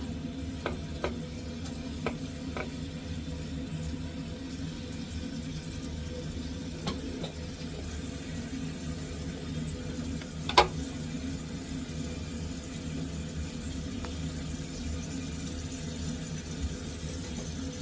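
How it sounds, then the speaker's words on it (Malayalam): Garlic and ginger fry gently in a pan for a chicken curry, a steady low sizzle running throughout with a few sharp clicks and one louder knock near the middle, quiet and without talk. "അത് നമുക്ക് വെളുത്തുള്ളി ഒന്ന് മൂപ്പിച്ച് കൊടുക്കാം വെളുത്തുള്ളി ഇഞ്ചി ഒന്നായിട്ട് ഇട്ട് കൊടുക്കാം"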